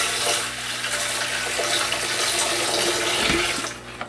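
Water is poured by hand into the top of a low-pressure tiny house kitchen water system, a steady close splashing gush that lasts a few seconds before tapering off.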